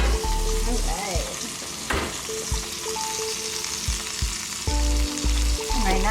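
A rib eye steak sizzles and fries in a hot pan, a continuous loud crackle with occasional stirring and scraping sounds, while tonal beeps from a kitchen timer or appliance cut in and out intermittently.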